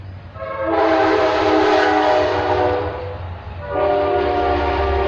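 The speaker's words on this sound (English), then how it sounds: "I live right by a train track." A train passes close by, sounding two long, loud horn blasts over the deep rumble of the moving cars.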